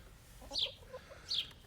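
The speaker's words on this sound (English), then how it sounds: "Go on, you crazy chicken." A chicken gives two short, quiet clucking calls about a second apart against a faint, soft background.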